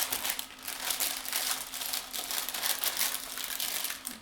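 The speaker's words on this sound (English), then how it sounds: "I'm going to line my loaf tray with baking paper." Baking paper crinkling and rustling up close while lining a loaf tray for banana bread, continuous crisp crackles in irregular bursts with no talk over them.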